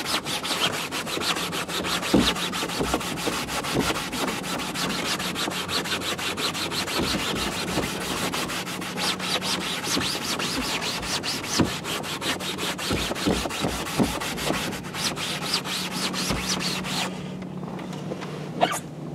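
A microfiber cloth scrubs a car headliner with continuous rapid rubbing strokes, close up, forming a dense scratchy texture that runs nearly nonstop with no talking.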